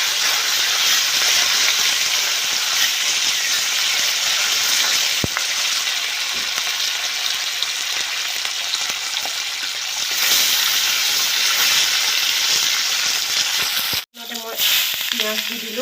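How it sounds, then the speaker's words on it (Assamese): Fish sizzles in hot oil in a wok, a loud, dense and steady frying hiss that runs on without a break, cut off by a brief dropout near the end before the sizzle resumes. "কেৰাহীত তেল দি দিলোঁ, তেল গৰম হৈ গ'ল, মাছখিনি ইয়াত দি দিওঁ।"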